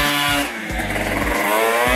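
A Yamaha Jog scooter engine revs hard nearby, a loud buzzing drone whose pitch surges and dips with the throttle.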